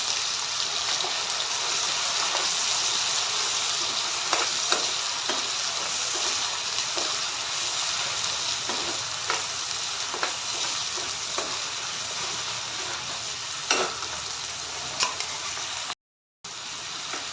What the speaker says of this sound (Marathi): आपलं हे तयार करून घेतलेली पेस्ट, सगळी आपण त्याच्यामध्ये टाकून घेऊ आणि त्याला चांगलं मसाल्याला तेलामध्ये फ्राय करून घ्यायचे आहे